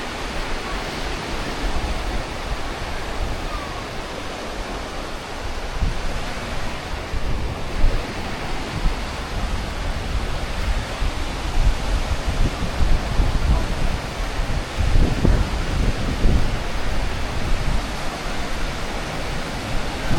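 Sea waves wash onto White Beach at Station 1 on Boracay, a continuous broadband rush of surf with wind buffeting the microphone, steady and fairly loud throughout.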